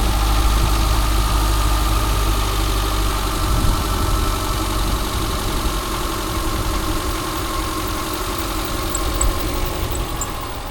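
A car engine with 170,000 miles on it idles steadily and close up, a low even rumble with light vibration running through the whole stretch, no voices over it.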